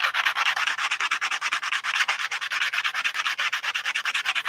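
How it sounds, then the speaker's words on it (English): Sandpaper rubs the edges of plastic stormtrooper armor parts in quick, regular back-and-forth strokes, close and steady with no talking. "Still like to sand the edges"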